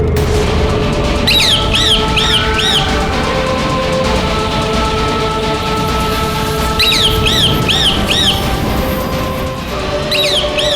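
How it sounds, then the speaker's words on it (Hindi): A demon spy in the form of a bird squawks in a mythological drama: three short bursts of rapid, wavering shrieks rise over a dense, loud bed of rumbling dramatic music and effects. "राक्षस गुप्तचर पक्षी के रूप में?"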